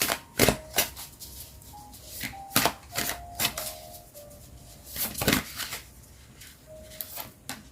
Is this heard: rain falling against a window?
no